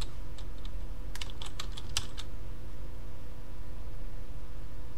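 Keys clatter on a computer keyboard during setup of Ubuntu Linux, a quick cluster of close clicks and short bursts over a steady background hum, with no voices.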